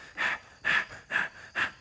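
Heavy breathing from Meatball, four loud, evenly spaced huffing breaths about half a second apart, close to the mic with no talking.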